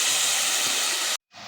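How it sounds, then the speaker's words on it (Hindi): Tomatoes frying in oil give a loud, steady, close hiss that cuts out abruptly for a moment and then returns. "अब इसमें ऑयल डाल के इनको अच्छे से भूनूंगी ताकि टमाटर अच्छे से कुक हो जाए"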